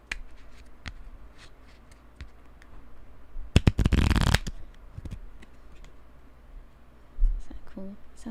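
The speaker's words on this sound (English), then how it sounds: "I'm gonna see if I can make the shuffling noise" A deck of playing cards is shuffled in one quick, crisp riffle burst lasting under a second, close up amid scattered small taps and handling noises, with some quiet speech nearby.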